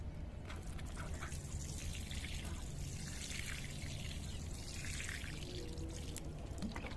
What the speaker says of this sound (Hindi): मैंने इसमें इतना भर भर के पानी डाला और साथ ही साथ ये नीचे से ड्रेन भी हो गया